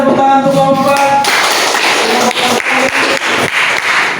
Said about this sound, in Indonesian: Mana tepuk tangan untuk kelompok 4?